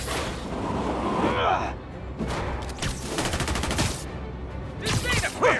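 Gunfire in the video game Marvel's Spider-Man Remastered: rapid bursts of shots and impacts crackle in clusters amid a busy action soundtrack, loud and close, with game voices mixed in.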